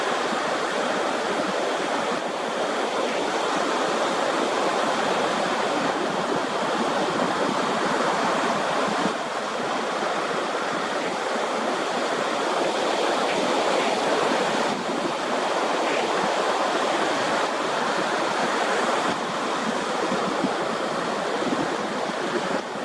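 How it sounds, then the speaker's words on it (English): Outdoor breeze of about seven miles an hour buffets the microphone in a loud, steady broadband rush, swelling and easing slightly, with no voices. "it's a little breezy, probably 7-mile-an-hour breeze right now"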